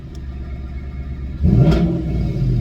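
A 2019 Mustang GT's deep, throaty Flowmaster active-valve exhaust idles low, then, valves open, surges into a loud rev about halfway through and holds a rumbling growl.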